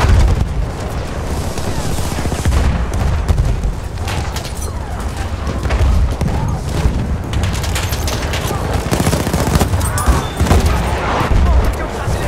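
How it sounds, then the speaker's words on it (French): Grenade explosion and gunfire in the video game Battlefield 1, a dense, continuous battle din of booms and rapid shots that stays loud throughout, with voices talking over it. "Je lance une grenade."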